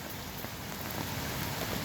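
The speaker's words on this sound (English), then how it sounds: "there's really nothing to do but wait for this rain to stop" Steady, dense rain patters on a tarp at a wet campsite, a loud continuous hiss of drops with no talking.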